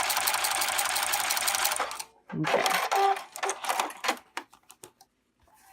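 A sewing machine stitches fold over elastic in a steady loud whirring run of about two seconds, followed by a few short mechanical clicks and bursts as a voice speaks briefly.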